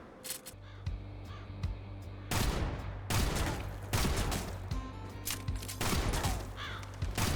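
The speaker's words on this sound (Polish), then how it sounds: "przenika on przez jednostki, no i ma mega mocny wystrzał" Heavy cannon blasts in the video game Kill The Crows boom out in a slow series of three or four loud shots, each followed by a short rumbling decay.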